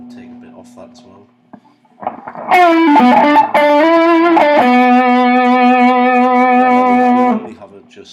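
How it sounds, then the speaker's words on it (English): Electric guitar played through a Donner pedal board with the distortion turned all the way up, giving a smooth sustained lead tone; quiet hum first, then loud distorted notes ringing and sustaining for several seconds before cutting off. "the distortion all the way up, with how it's still a very smooth lead sound"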